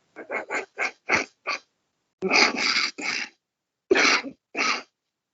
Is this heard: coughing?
yes